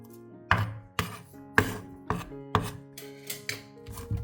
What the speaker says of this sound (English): Next, finely chop the garlic.